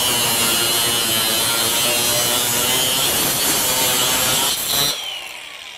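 A FLEX 24V FX3171A brushless angle grinder at up to 10,000 RPM cuts through 1/4-inch steel flat bar, giving a loud, steady high-pitched shriek that stops abruptly near the end as the disc breaks through, leaving the motor spinning down.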